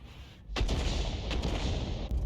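Artillery cannon fire from an M53/M55 self-propelled gun in World of Tanks, a sudden loud boom followed by a sustained rumbling roar and a second blast near the end.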